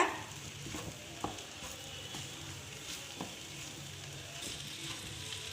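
Egg kothu parotta is stirred through and fried in a pan, giving a steady close sizzle with scattered scrapes and taps from the spatula over about five seconds, with no talking.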